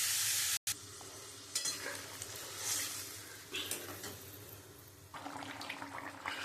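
Spiced masala for a fish curry with papaya and potato sizzles and bubbles in a pan as water is poured in. A brief cut is followed by uneven hissing and stirring that fades and swells.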